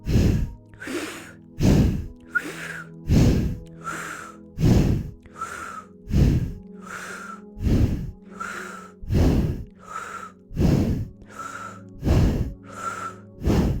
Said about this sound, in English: inhale deeply through the nose. Exhale through the nose. Exhale completely, and then inhale through the mouth.